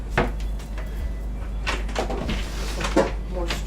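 A deep storage drawer on a boat is pulled open, making a few short sliding and knocking sounds, close by and moderately loud, over a low steady background hum.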